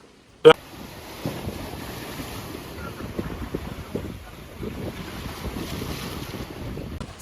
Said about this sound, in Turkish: Dalgalar çok fazla.